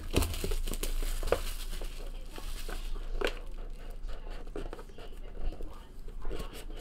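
Sealed boxes and packs of 2017 Leaf Metal Draft baseball cards being torn open, with close crinkling and ripping of wrappers and foil continuing steadily, punctuated by sharper tears.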